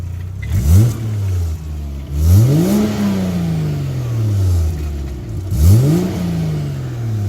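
A warm Volvo S60 T6 R-Design engine on a dyno revs up three times, each blip rising sharply and then sinking back to a steady idle drone, loud and close.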